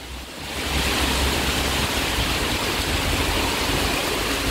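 Heavy rain pours down as a dense, loud, steady roar that swells within the first second and then holds without a break.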